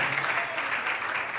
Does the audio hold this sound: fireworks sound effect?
no